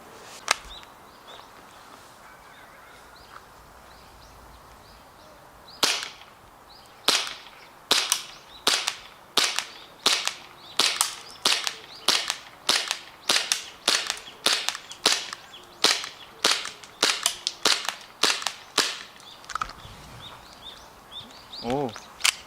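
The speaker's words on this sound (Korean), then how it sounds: "사격을 해보면서 집탄을 확인할 건데요" A WE Glock 19 G-Force airsoft pistol firing single shots at targets, a long run of sharp, close cracks in an irregular steady rhythm with brief pauses, over faint background noise.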